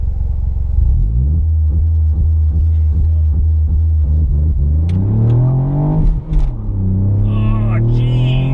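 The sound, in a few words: Ford Fiesta ST MK8 launch control acceleration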